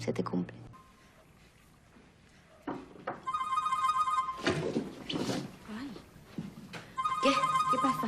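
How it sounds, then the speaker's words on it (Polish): A telephone rings with bursts of electronic trilling that repeat after a pause. Voices talk quietly in between. "Sięgnęłaś po telefon, bo dzwoni."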